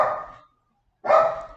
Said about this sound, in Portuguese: mais uma vez minha cachorra tá latindo